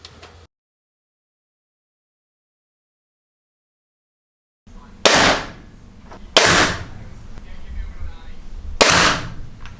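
Barnett TS390 crossbow firing outdoors, three sharp, loud cracks spaced a couple of seconds apart after a long stretch of silence, each with a brief ringing tail.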